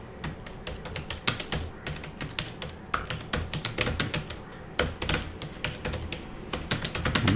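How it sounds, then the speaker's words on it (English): Rapid, uneven keystrokes on a computer keyboard fill the recording, close and crisp, with short bursts and pauses between taps. "So I will type a letter like say 2 here"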